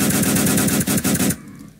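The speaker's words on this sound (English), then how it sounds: "I hear gunshots." Rapid automatic gunfire in a Roblox game rattles out in loud close bursts with short gaps, then cuts off abruptly into quiet.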